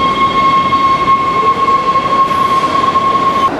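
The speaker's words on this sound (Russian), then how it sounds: "А вот мы и в метро Вашингтонском." Loud, steady rumble of a Washington, DC Metro subway train with a sustained high whine from the rails, filling the station continuously throughout.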